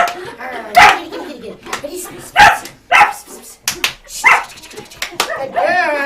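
A pet dog barks and yips sharply and close by during an energetic play training session, with several loud barks mixed among a trainer's excited spoken cues and praise.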